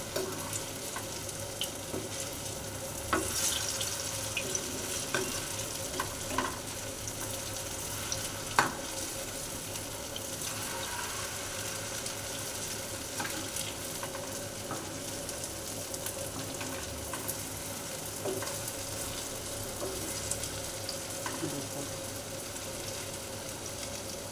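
Paneer pakoda fritters fry in hot oil with a continuous, even sizzle throughout, broken by occasional clicks and faint stirring scrapes, moderately close and with no one talking.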